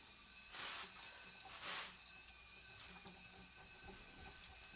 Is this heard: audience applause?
no